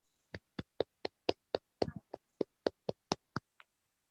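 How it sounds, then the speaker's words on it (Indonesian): About a dozen evenly spaced, sharp claps ring out in a quiet classroom to applaud a student during a teaching practice session, with one brief scuffle midway and a faint short vocal sound near the end. "beri tepuk tangan untuk Rasmal Kolbi"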